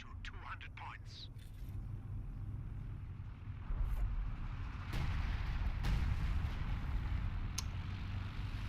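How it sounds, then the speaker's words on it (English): Distant artillery in a World War II battle game over Caen, a low steady rumble broken by a few sharp impacts and booms, with a voice speaking briefly near the start. "Artillery going down."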